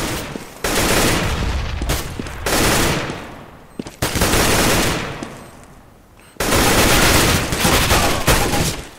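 Sustained automatic gunfire in a bomb-planting tactical shooter game, loud bursts of rapid shots in three long strings with short pauses between, no talking.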